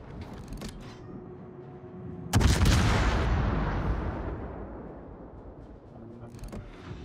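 Heavy naval gunfire booms out in a warship battle game, a single loud blast with a long rumbling decay, over quiet background voice chat.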